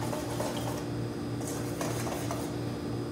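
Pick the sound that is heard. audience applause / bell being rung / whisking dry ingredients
whisking dry ingredients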